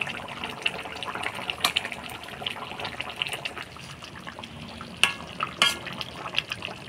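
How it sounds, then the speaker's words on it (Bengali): Panga fish curry with potatoes simmering in a pan, a soft, steady bubbling sizzle with faint liquid gurgles and a couple of sharp utensil clinks near the end. "মাছগুলা দিয়ে 2-3 মিনিট জাল দিয়ে নিলাম"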